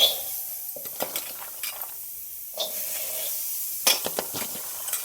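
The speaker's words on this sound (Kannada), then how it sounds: "ಇದು ರೊಟ್ಟಿ ಮಾಡಿದ ತವಿ ಐತಲ್ಲ ಇದ್ರೊಳಗನ ಹುರಿಯಾಕತ್ತೀನಿ" Karchikai fried with garlic on an iron roti griddle, with scattered scraping and stirring clinks over a soft sizzle, plus a few sharp utensil taps; no talk.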